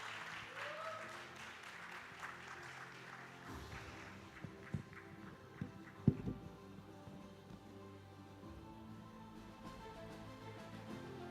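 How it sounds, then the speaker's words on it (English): Applause for a panel at a conference in the Philippines, fairly faint and thinning out over the first few seconds, followed by scattered bumps and shuffling, with a voice speaking during the applause. "can we have resounding applause for the distinguished and seasoned panel we have with us here?"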